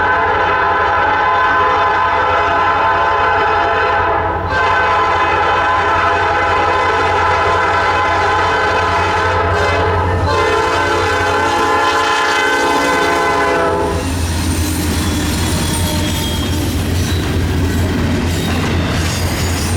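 A P5 horn on a Norfolk Southern locomotive leading an intermodal train blares loud and close, holding one long sustained chord with brief breaks, then the horn cuts off at around fourteen seconds into the rumble and wheel noise of the passing train.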